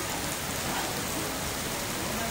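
Heavy, steady rainfall in India pouring down on surfaces, a dense unbroken hiss throughout at a constant level.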